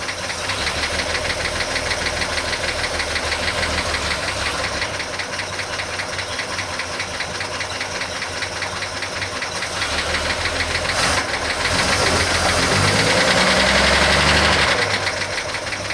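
A 1941 Chevy engine idles roughly while down a cylinder, with a loud, continuous knocking and rapid uneven thumping that stays steady and close throughout.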